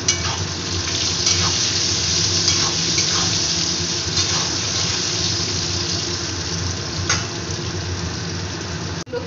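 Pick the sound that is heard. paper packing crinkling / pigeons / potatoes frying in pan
potatoes frying in pan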